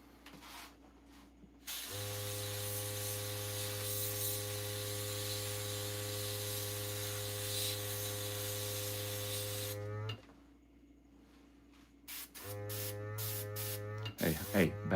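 An airbrush sprays paint onto taxidermy shoulder mounts, a steady hiss with a motor drone running for about eight seconds, stopping, then resuming briefly, loud and close.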